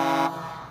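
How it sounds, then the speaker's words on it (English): One loud, brassy bus air horn blast, from a Wanderlodge motorcoach, that cuts off abruptly and leaves a fading ringing tail. "every time I honk those horns"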